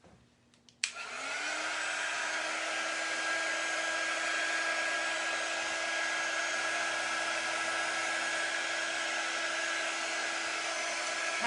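A hair dryer switches on with a click and then blows in a loud, steady whoosh with a faint high whine, drying the painted surface of a pumpkin close by, with no talking.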